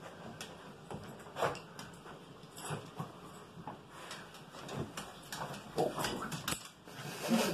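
A 14-year-old toothless beagle snorts and snuffles while rooting through a snuffle mat for hot dog pieces indoors, with repeated short, close, uneven sniffing bursts.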